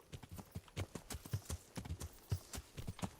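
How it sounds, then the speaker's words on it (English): Hooves clip-clop rapidly as a horse gallops through a medieval town in Kingdom Come: Deliverance, a fast irregular drumming of sharp hoofbeats at moderate distance with no talking. "Learn how to ride a horse, idiot!"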